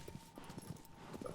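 Horse hooves clip-clop at a steady trot in the Shadow of the Colossus video game, moderately faint beneath a low ambient bed with no talk.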